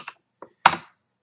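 A few keys are struck on a computer keyboard, with two light taps followed by a sharper, louder keystroke, each dry and close in a quiet room.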